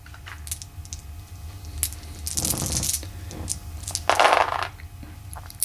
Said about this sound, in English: They get to roll 6 dice that hit at 3 or less.